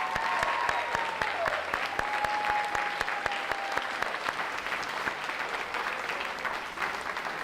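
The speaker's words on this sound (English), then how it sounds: "Let's give them another round of applause." An audience at a school district award ceremony applauds honorees who stand, producing sustained, even clapping from a sizeable crowd, with a faint high tone in the first seconds, no voices.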